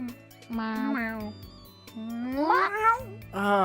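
A voice imitates a cat, giving a run of several drawn-out, rising and falling meows close to the microphone, each meow loud and separate, like a playful caterwaul.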